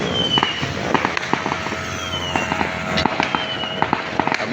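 Fireworks go off at a New Year celebration, a steady run of sharp crackling bangs and pops at middle distance over a continuous hiss of background noise, with no voices.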